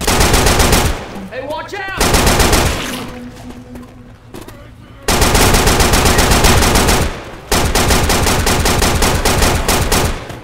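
Loud, rapid automatic gunfire from Left 4 Dead 2 on the Dark Carnival campaign, in long dense bursts that stop briefly for a couple of seconds mid-clip, with a player shouting a warning over it.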